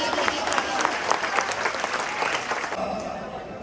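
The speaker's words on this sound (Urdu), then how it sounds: "تالیوں کے ساتھ ان کا استقبال کریں۔" Crowd applauding at an outdoor election campaign rally in Sambrial, steady dense clapping that continues for several seconds before thinning slightly, with faint voices mixed in.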